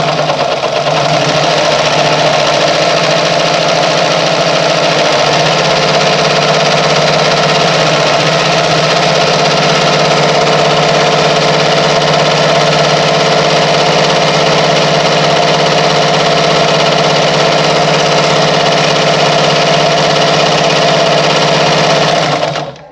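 A Pioneer semi-industrial heavy-duty sewing machine runs steadily while winding a bobbin, a loud continuous motor whir with a constant mechanical hum that holds unbroken for over twenty seconds.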